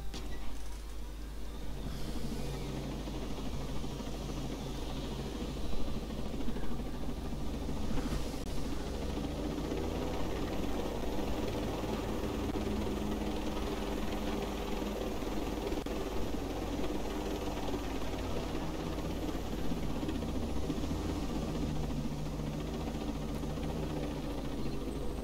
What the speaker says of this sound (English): Let's go take our helicopter, fly a bit further north.